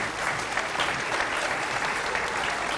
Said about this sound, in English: let's give another round of applause to Mr. Steve Markey.